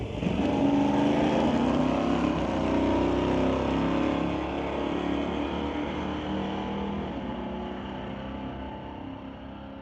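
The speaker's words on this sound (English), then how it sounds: "Justin Burchell from Abbotsford in the 1971 Chevy Camaro going against Keith Pedersen in the 68 Dart" A 1971 Chevy Camaro and a 1968 Dodge Dart roar down a drag strip in a street-legal race, a loud sustained engine drone under full throttle that fades slightly as the cars pull away.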